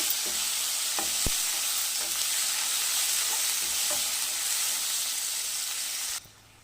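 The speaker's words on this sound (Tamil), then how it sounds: "தக்காளி போட்டு நல்லா வதக்கணும்" Tomatoes with salt sautéing in a pan make a loud, steady close-up sizzle, with a few faint taps and scrapes of a stirring spoon before the sound cuts off abruptly.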